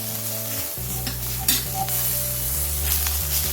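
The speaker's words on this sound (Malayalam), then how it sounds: "അതും കൂടി ഇട്ടിട്ട് നന്നായിട്ടൊന്ന് ഇളക്കി കൊടുക്കാം." Onions frying in a pan with ginger garlic paste, stirred steadily for a few seconds, giving a continuous close sizzle with scraping stirs over a faint tonal background.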